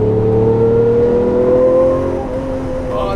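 A Lamborghini LP640 being driven hard gives a loud engine whine whose pitch climbs steadily under acceleration, then eases off near the end.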